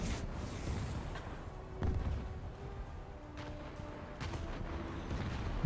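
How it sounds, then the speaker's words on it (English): Naval guns firing at a light cruiser in a naval warfare video game: distant heavy booms of artillery, a few separated shots with a prominent blast near two seconds, over a low rumbling sea-battle background. "I'll just fire straight at it."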